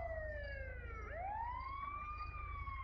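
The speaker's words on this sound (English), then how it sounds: "Dispatch, send me an ambulance." Ambulance siren in the GTA V LSPDFR police game, a loud, continuous electronic wail that sweeps down, then rises again over a steady low engine rumble, heard alone with no talk.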